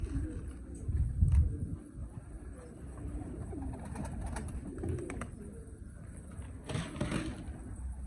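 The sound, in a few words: pigeons cooing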